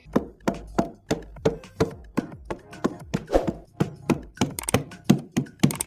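A steady series of hollow, dull thumps as a watermelon is knocked repeatedly by hand, about two knocks per second, close and clear with no talking.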